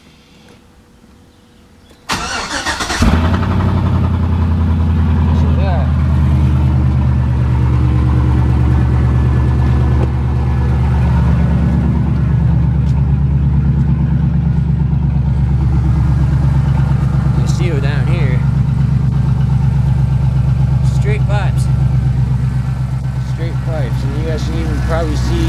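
A car engine with a straight-pipe exhaust cranks, catches and starts, then idles loud and close with a steady, slightly uneven burble and occasional revs, while a person talks over it.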